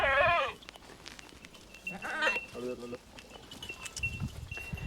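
A goat bleats loudly and close at the start, then shorter bleats follow amid background voices and farmyard noise.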